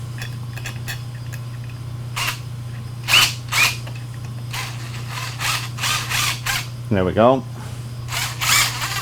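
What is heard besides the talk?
DEWALT drill driving a 5/16 bit into steel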